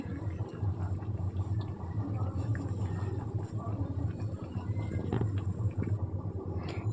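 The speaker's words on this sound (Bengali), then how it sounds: "সয়াবিনটা কিন্তু ফুটছে।" Soybean curry bubbles in a wok, giving a busy, steady low burble and gurgle with small pops. It holds at a moderate level throughout, without talk.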